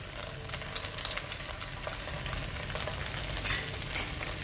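Ginger and garlic sautéing in hot oil with browned onions in a pan, a dense, even sizzle with a few light stirring scrapes, close by, with no talk.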